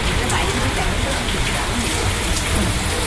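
Steady rain pours down on a wedding pandal set up for mehendi and sangeet preparations, a dense, even hiss of drops on the covering that continues without a break.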